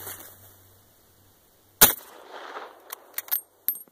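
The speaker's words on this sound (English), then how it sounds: "So I'm just shooting these up." A single sharp gunshot firing a cast bullet load cracks loud and close, followed by a fading outdoor echo and a few small metallic clinks and knocks.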